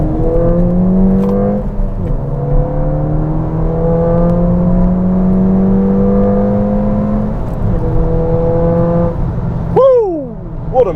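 A stock Ford Fiesta ST accelerates hard on a road exit, its engine note climbing steadily in pitch through several gear pulls with brief dips at shifts, loud and close from inside the cabin.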